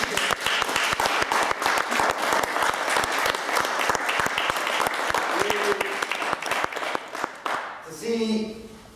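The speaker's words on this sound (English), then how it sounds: "Can we please give Sarah a massive round of applause?" A crowd gives a long, loud round of applause for a performer named Sarah at a monologue show, crisp claps packed close together until a voice starts talking as it dies away.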